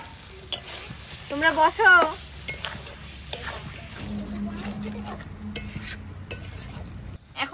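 Potatoes are sautéed in oil for Kashmiri aloo dum, a low frying sizzle with clinks of a utensil on the pot, while a voice briefly speaks early on amid other household noise.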